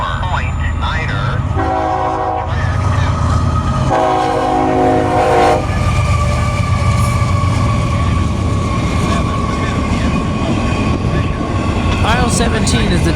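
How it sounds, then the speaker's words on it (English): A CSX IO-17 intermodal freight train passes close and loud, blasting two horn bursts early, then rumbling on with steady wheel and car noise. "IO-17 is the daily intermodal train that goes from Massachusetts all the way to Illinois."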